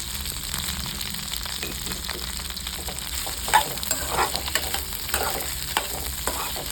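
Ivy gourd (kovakkai) sautés in a pan for a Tamil chutney, sizzling and crackling steadily and close by. Occasional stirring clatters run through it. No one speaks.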